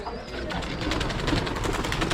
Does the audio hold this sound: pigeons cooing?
yes